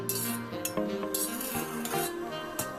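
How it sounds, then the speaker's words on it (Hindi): Broken wheat daliya lapsi stirred in a pan with a utensil, giving close scraping and clinking strokes with repeated sharp taps against the metal. "और इसे अच्छे से मिक्स कर देंगे।"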